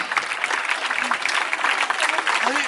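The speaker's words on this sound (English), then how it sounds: "round of applause for Abby" Audience at a Taronga Zoo bird show clapping for a participant named Abby, a dense burst of applause from a sizable crowd, with voices talking over it.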